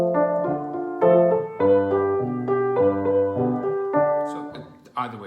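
Piano plays a descending passage, a few chords stepping downward at a steady pace, close and moderately loud, with the last notes fading out.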